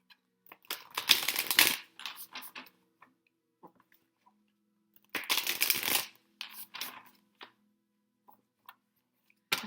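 Tarot cards are shuffled in two close, crisp riffling bursts with a pause between, followed by scattered light taps and card handling in an otherwise quiet room.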